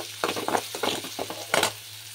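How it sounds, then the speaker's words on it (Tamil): Onions sautéing with salt in a pan, a soft sizzle broken by several short scraping stir strokes, close and fairly quiet, with no voices. "நல்லா சாஃப்டாக வதக்கி வதக்குங்க."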